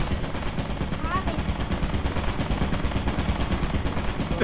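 A turret in Lethal Company fires a fast continuous burst of gunshots, loud and close, rattling steadily through the whole stretch with a brief faint tone partway through.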